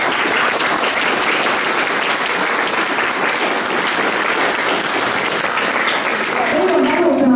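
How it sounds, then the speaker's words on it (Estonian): Big round of applause from a school audience for children who have just performed at an Estonian Independence Day celebration in Narva; dense, steady clapping fills the whole stretch, with voices rising near the end. "aga teeme neile suure aplausi."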